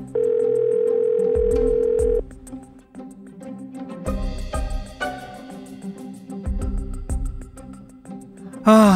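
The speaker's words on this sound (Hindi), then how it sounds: "अब फोन भी नहीं उठा रहे हो।" An unanswered phone call gives a steady electronic ringing tone up front, followed by background music, moderately loud with no speech.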